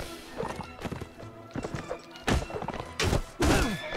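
Horse hooves pounding in a Mount & Blade Warband cavalry battle, a series of loud clip-clop thuds and impacts with clashing bursts, close and busy throughout.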